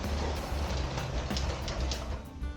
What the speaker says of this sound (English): All right, that's our Lego train.